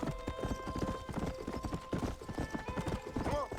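Rapid clip-clop of horse hooves galloping in Red Dead Redemption, loud and close, with a horse whinny near the end and game music and talk layered beneath.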